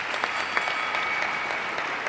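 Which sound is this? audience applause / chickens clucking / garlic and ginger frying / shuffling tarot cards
audience applause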